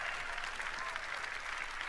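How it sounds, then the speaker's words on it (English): Applause from a conference audience at the Xbox E3 2017 show: a steady, dense wash of clapping from a large crowd, fairly faint and distant, holding evenly throughout. "People really gonna cheer for a liquid cooler?"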